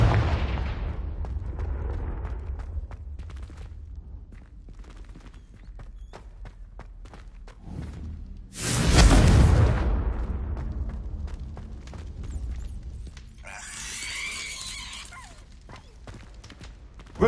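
Confringo fire-blast spell explosions in the video game Hogwarts Legacy: a loud burst near the middle with a broad roaring decay, then a second hissing, crackling blast a few seconds later over low background rumble and scattered clicks.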